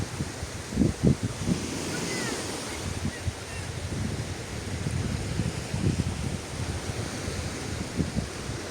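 Steady sea surf rolling in at the shore at Riva, Istanbul, with wind rumbling across the microphone, a broad constant wash with a few louder low surges.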